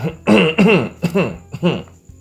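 Someone chokes and clears their throat several times in quick, rough bursts, close to the microphone, with no words spoken.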